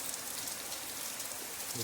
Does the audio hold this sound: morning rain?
yes